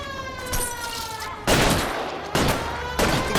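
Gunfire in the video game L.A. Noire crackles in sharp bursts, with loud volleys starting about halfway through and repeating twice more, under a background siren-like tone.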